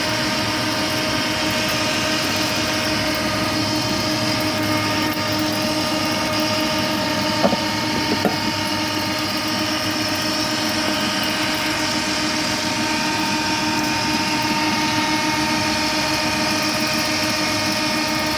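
A noisy kitchen exhaust fan runs in a steady, loud droning hum with a constant tonal whine, unbroken and alone for the whole stretch.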